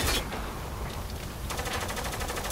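Gunfire from the military shooter game Spec Ops: The Line, a sustained burst of rapid automatic fire with a loud opening shot and a tighter rattling volley partway through, dense and continuous.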